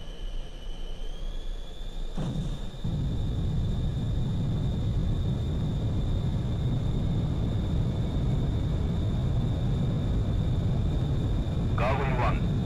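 A military jet taking off in a flight combat game, with a steady engine whine and a heavy, constant roar that surges after a thump and keeps going, while radio voices talk over it.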